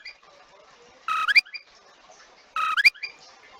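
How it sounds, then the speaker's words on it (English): A chirping sound effect in a homemade Scratch video game repeats twice, each a short, bright electronic trill of quick rising notes, with a quiet pause between them. "So it's basically going to keep on chirping."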